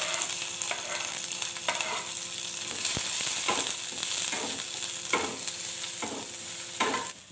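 Ginger, garlic and green chili paste fries in hot oil with cumin seeds and curry leaves, a steady loud sizzle broken by repeated scraping stir strokes from a spoon in the pan.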